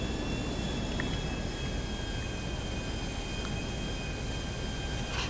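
Airplane engine in GTA V, a steady droning hum holding at an even, moderate level throughout with no voices.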